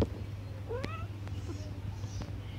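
One short rising meow comes from a house cat among several kept at a home in Chascomús. It sounds close against a steady low background hum, with a couple of faint clicks afterward.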